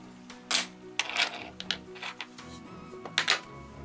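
Copper coins dropped into a cleaning soap solution, several clinking, jingling impacts in irregular bursts, close and fairly loud against a quiet background.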